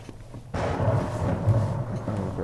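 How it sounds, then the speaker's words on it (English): Thunder in the horror video game White Night: a deep rumbling roll breaks in suddenly and carries on heavily for about two seconds. "A bit of lightning, okay."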